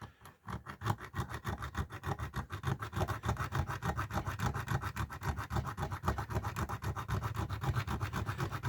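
A survival knife's saw-back blade rasps back and forth through wood, cutting a notch in a fast, steady rhythm of short scraping strokes, close and clear.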